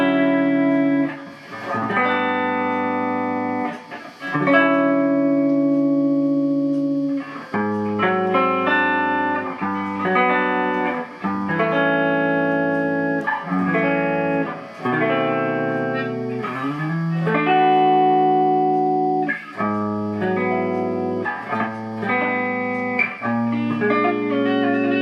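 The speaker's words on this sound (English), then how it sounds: "That's a clean tone for this amp." Clean electric guitar tone through a Digitech RP360 XP multi-effects processor, strummed chords and picked arpeggios ringing with light chorus and reverb, loud and continuous with short pauses between phrases.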